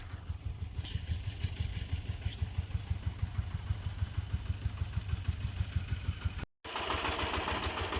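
A tractor engine chugs with a steady, rapid thumping rhythm as it drives through a field, loud and close, briefly dropping out before resuming.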